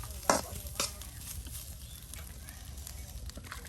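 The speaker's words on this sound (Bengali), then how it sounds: "ভাতগুলি একদম তেলে ভাজা ভাজা করে নেওয়া" Cooked rice frying in oil in a home kitchen, with faint, steady sizzling and a few sharper scrapes of a spoon stirring the pan, heard quietly throughout.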